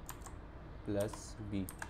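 Computer keyboard typing while entering Python-style code, a few quick key clusters under someone talking in Hindi.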